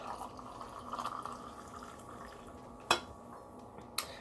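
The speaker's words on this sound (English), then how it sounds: "let's get a coffee pour" Coffee being poured in a home kitchen, a soft trickling fill under low room noise, with a couple of sharp clinks of a cup or dish near the end.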